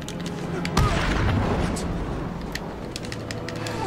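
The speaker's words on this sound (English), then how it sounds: "I don't like it when I'm getting shot at." Gunfire in Batman Arkham City: a sharp shot bursts out, then rumbling booms and scattered bangs continue over a dense, noisy game soundscape.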